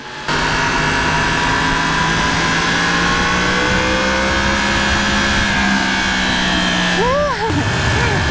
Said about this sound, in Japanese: この本当一瞬だけこの加速のね6000回転ぐらいからかな、この音がさ